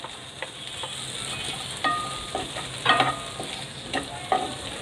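Chopped cabbage and half-boiled carrots stir-fry in a pan with a steady sizzle, broken by irregular scraping and clinking as a spatula stirs them; no voices.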